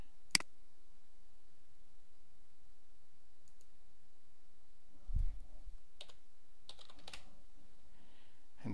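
Keys of a computer keyboard tapped in a few scattered clicks and short bursts while a username and password are entered, quiet and close with long pauses between keystrokes and a soft low thump midway.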